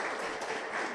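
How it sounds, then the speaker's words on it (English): Steady applause from a crowd, a dense patter of many hands clapping at moderate volume, with no voices over it. "You should clap for your teacher."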